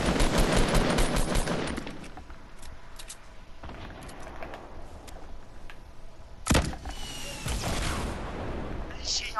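Video game gunfire aimed at a tree: rapid bursts of automatic shots rattle loudly at the start, then scattered single shots, a sharp loud burst near the middle and more firing toward the end.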